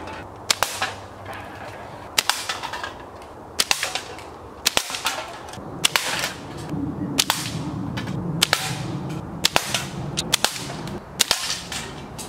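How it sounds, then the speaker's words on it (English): A Daisy PowerLine F16 slingshot firing steel BBs at cans and bottles, a series of about nine sharp snapping cracks at roughly regular intervals, each followed by a brief rattle, with no talk. "We'll start off with the steel BBs that I mentioned, and then we'll move on to rocks and some different targets."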